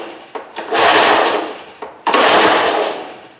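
A John Deere 14SB lawn mower engine pull-started twice: each recoil pull gives a short clack followed by a loud, whirring surge that fades, close up, with the engine not catching.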